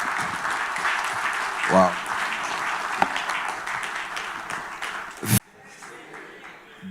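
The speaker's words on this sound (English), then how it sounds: "A round of applause for him one more time." Audience applause at a Ghana budget forum, a broad steady clapping from a hall crowd lasting several seconds, mixed with a voice and a brief exclamation before it cuts off.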